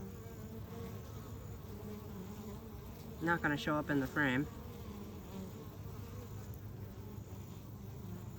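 A low, droning bumblebee buzz hums steadily in the background, while a person speaks briefly partway through.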